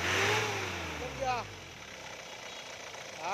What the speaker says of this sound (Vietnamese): máy đang hoạt động đây, nổ êm máy cực kỳ